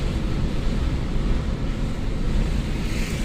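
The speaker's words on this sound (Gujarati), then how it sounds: "અમારે અમદાવાદમાં ધોધમાર વરસાદ ચાલી રહ્યો છે, સલંગ વરસાદ ચાલુ જ છે" A heavy, continuous downpour in Ahmedabad fills the clip with a dense, steady roar of rain, loud and unbroken throughout, with no voices.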